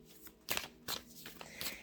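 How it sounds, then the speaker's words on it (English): Oversized cards being shuffled by hand, three or four crisp riffling bursts with short pauses between, close and fairly loud with no talking. "These cards are kind of giant, so it's a little difficult to shuffle"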